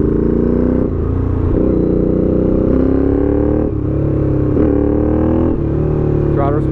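A Honda CX500 motorcycle engine with freshly cleaned, vacuum-synced carburetors and mixture screws backed out 2 1/4 turns runs close and loud, its throttle blipped in several smooth rises and falls over a steady idle.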